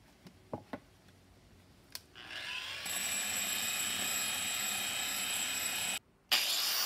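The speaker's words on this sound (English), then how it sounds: "I'm doing the same procedure, cross-hatching it with the dry grinder again" A dry grinder cross-hatching the surface of a rock being carved into a bowl: a few faint taps, then a steady high-pitched grinding whine that runs continuously, cuts out briefly and resumes.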